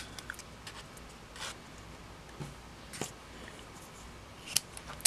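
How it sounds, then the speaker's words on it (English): Scissors snip the ribbon tails of a bow on a handmade card, a few faint, sparse clicks and light crisp cuts spread over quiet paper-craft handling noise. "And I'm going to trim my tails."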